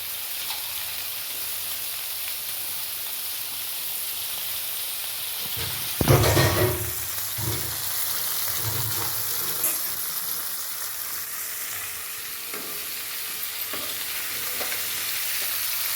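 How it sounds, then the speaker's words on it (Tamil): Crab sizzles in a pan with ginger and garlic for a coconut milk crab gravy. A steady close frying hiss is broken near the middle by a loud splashing burst and stirring scrapes as the crab goes in, then settles back to sizzling. "இப்போ வந்து நான் கழுவி வச்சுருக்க நண்டு எல்லாத்தையுமே இதில் சேர்த்துக்கிடுவேன்."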